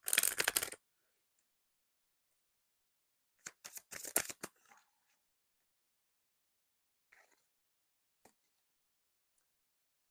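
Playing cards riffle in short crisp bursts, one at the start and a cluster midway, with faint soft clicks between long quiet gaps.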